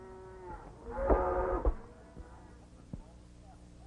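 A herd of cattle moos, with one loud, drawn-out bellow rising over lowing and other faint farm sounds, and a voice speaking in the background.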